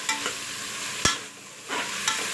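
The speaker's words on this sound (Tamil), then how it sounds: "இதை போட்டு நல்லா 1 நிமிஷத்துக்கு நல்லா வதக்கி விடலாம்" Chicken pieces stir-fry in a pan with onion, green chilli, curry leaves and ginger-garlic paste, a steady sizzle broken by a few sharp scrapes and clacks of a spoon against the pan.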